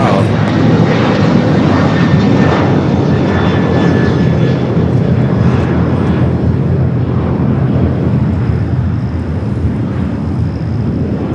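A UPS cargo plane arriving at LAX produces a loud, continuous jet engine roar with high whining tones close by, staying steady and dense throughout.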